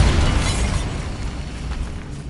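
A Bombarda spell explosion effect from a Harry Potter game erupts as a loud, sustained rumbling boom that fades slowly, with no talk over it.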